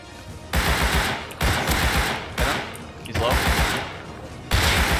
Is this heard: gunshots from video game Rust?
yes